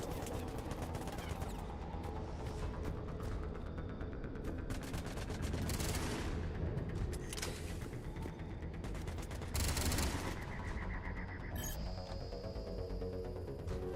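Sustained gunfire and mechanical clatter in the Mass Effect 3 video game, with dense bursts of shots and ratcheting metallic noise running loud and steady throughout, peaking in short intense volleys.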